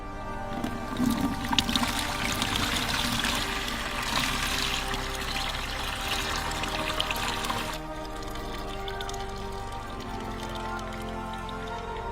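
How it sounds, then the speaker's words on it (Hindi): Salty water pours and splashes through a strainer in a continuous rushing stream, close and steady, then drops to a softer trickle near the end. "तो पानी को अपन छान लेते हैं"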